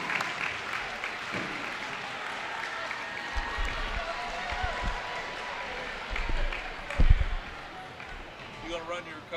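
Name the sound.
crowd applause at a high school basketball game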